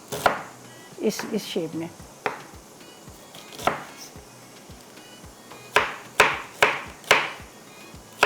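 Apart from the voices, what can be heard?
chopping onions with a knife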